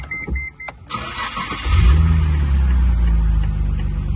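A car being inspected before a bid in Japan cranks briefly and catches on the first try, settling into a steady, loud idle close by.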